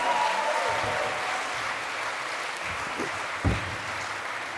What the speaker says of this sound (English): Hey, a huge round of applause for Ra Ra.